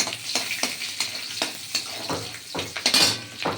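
Garlic and green chillies frying with panch phoron in a pan hiss steadily while a spatula scrapes and clinks in a quick repeating stirring rhythm, close up and free of speech.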